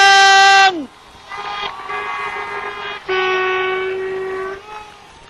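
A train horn blasts loudly at a railway station, then sounds again in long sustained tones with a quieter pause between them, the blasts dropping off abruptly.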